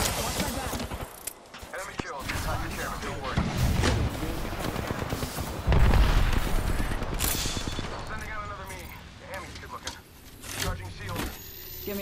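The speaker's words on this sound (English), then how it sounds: "There's men shooting at us from here." Video-game gunfire from men shooting, rapid bursts and single shots mixed with explosions and vehicle noise, near and loud, under frequent talk from a player.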